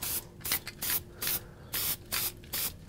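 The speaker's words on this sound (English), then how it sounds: "I spray from one direction and then I turn it completely upside down" Short repeated hissing bursts of an aerosol spray can on a carved wooden sign, about eight sprays in quick succession with brief pauses between.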